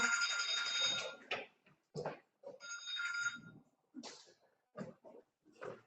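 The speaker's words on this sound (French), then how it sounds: "j'ai mon téléphone qui sonne" A mobile phone ringtone goes off during a seminar talk, a bright electronic ring at the start that repeats in short bursts between a man's speech.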